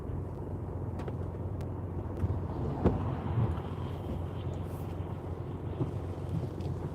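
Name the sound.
wind noise on microphone while driving in heavy rain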